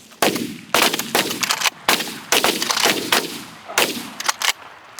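Shotgun blasts during a Michigan goose hunt, several loud, sharp reports in uneven succession with short echoing tails, close by and largely without talk.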